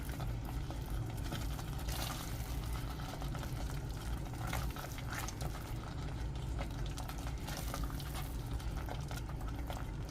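Sweet potato halwa simmering in a pan on a low flame bubbles softly and steadily, with faint stirring scrapes over a constant low bubbling, quiet and close, with no talking.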